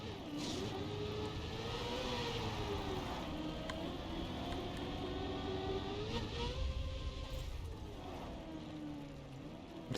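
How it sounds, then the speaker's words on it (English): Car engine in the racing game Trackmania straining through a rough gear shift up to fourth, a steady whining, revving drone that wavers in pitch and holds at moderate loudness throughout, with no talk over it. "You can hear my car scream in pain."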